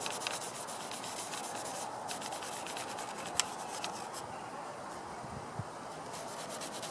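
Sawdust being wiped and rubbed off a power tool surface, a steady dry scrubbing hiss with brief pauses and a couple of faint knocks, close and quiet, with no talking.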